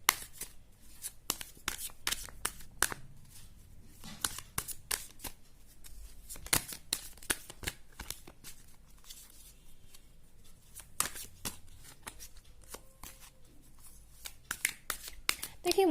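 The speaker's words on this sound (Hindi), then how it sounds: "मुझे अभी कार्ड्स शफल करते हुए ये एनर्जी भी आ रही है" Tarot cards shuffled by hand in soft, repeated riffling bursts with short pauses between, fairly close and quiet, with no talking over them.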